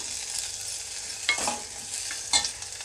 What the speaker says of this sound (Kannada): ಈರುಳ್ಳಿಗೆಲ್ಲ ಚೆನ್ನಾಗಿ ಫ್ರೈ ಆಗಿದೆ ಇವಾಗ ನಾನು ಸಣ್ಣದಾಗಿ ಕಟ್ ಮಾಡಿ ಇಟ್ಕೊಂಡಿರುವಂತಹ ಕೊತ್ತಂಬರಿ ಸೊಪ್ಪನ್ನು ಹಾಕ್ಕೊಳ್ತಾ ಇದ್ದೀನಿ